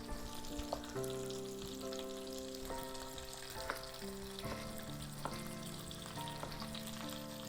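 Potato frying with mustard seeds and cumin in a stir-fry pan for a vegan vegetable curry: a constant close sizzle with scattered crackles and spoon clatter, a faint steady tonal hum running underneath.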